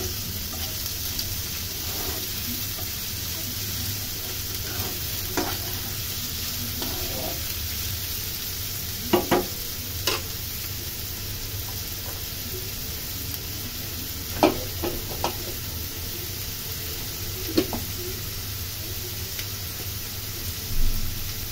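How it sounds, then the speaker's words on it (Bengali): Chopped onion and chili fry in oil in a pan, giving a steady soft sizzle with occasional sharp spits and stirring clicks, fairly quiet and with no talk. "এর ভিতরে দিয়ে দেবে পেঁয়াজ কুচি আর মরিচ।"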